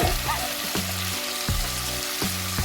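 Masala corn frying in a pan as street-style snack: a steady, loud sizzle with periodic scraping stirs of a spoon against the pan, about every three quarters of a second.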